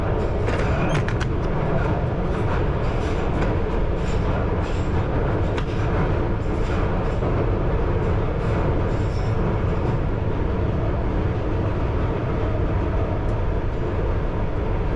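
A London Underground Piccadilly line train arriving at King's Cross rumbles steadily and loudly throughout, with a constant low roar of wheels and motors and faint high clicks and squeals on the track.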